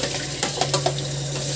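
Sinabawang tuna, a Filipino tuna soup, stirred in a pot on the stove: a few soft scraping knocks of a utensil over a steady simmering hiss, brief and close, with no talking.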